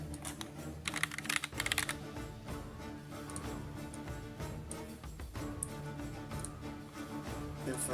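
Keys clatter on a computer keyboard in a quick, uneven burst of typing that grows louder early on, then thins to scattered taps over a constant background hum during a Hellish Quart tournament stream.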